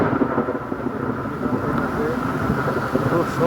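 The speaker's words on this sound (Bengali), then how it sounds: "অনেক সুন্দর বৃষ্টি হচ্ছে" Rain falls steadily in a dense, broadband rush with a low rumble of thunder beneath it, continuous and fairly loud throughout, with no clear voices.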